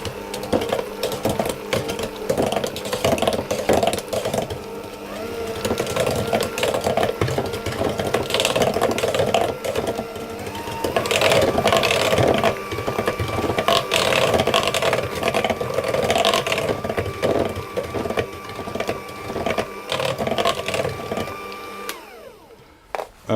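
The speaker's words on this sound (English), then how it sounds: "I'm going to stir the flour in on a slow speed and maybe finish it off with the spatula" Electric mixer running on slow speed, stirring flour into a cherry Madeira cake batter of milk and almond extract; a steady whirring motor hum with rattling tones, continuous and close for most of the stretch before stopping near the end.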